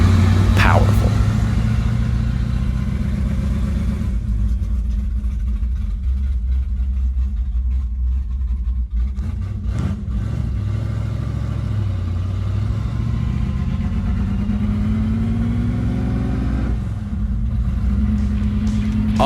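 A 1967 Chevelle muscle car on the street, its engine rumbling low and steady nearby, with several rising revs as it pulls through the gears.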